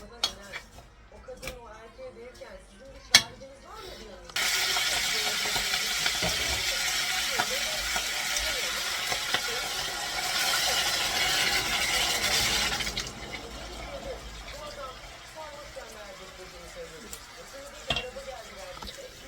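Peppers and meat sauté in a home kitchen pan, a loud, steady sizzle running for several seconds before fading back to clinks of pans and utensils, with voices nearby.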